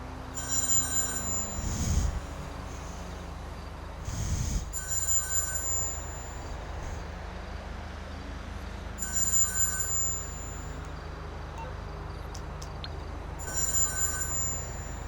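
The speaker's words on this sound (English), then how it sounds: "I do not feel like answering a phone." A phone rings repeatedly in Grand Theft Auto, sharp electronic trills sounding in regular bursts over a low rumbling game background, with no talking.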